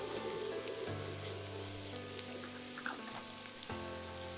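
Shrimp mixture with chopped coriander, salt, sugar and garam masala sautés in a pan, a soft steady sizzle with faint stirring scrapes, fairly quiet and unbroken.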